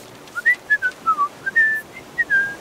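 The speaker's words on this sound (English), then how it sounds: "The rest of you can go whistle." A person whistles a short, lilting tune of about ten clear, pure notes, sliding up and down in a lively rhythm, close and alone without other sound.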